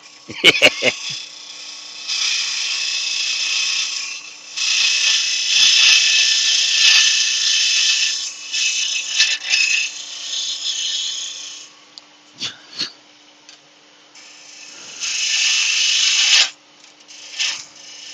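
Laburnum wood is sanded with coarse 40-grit abrasive, likely on a lathe, making long, loud rasping sweeps that come in bursts with short pauses and a few knocks between.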